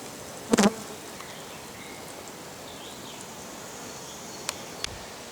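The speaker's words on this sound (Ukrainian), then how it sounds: "скільки в болоті бджоли." A faint, steady drone of honeybees hangs over quiet outdoor air at a bog of flowering watercress, with one brief sharp knock near the start and a couple of faint ticks later.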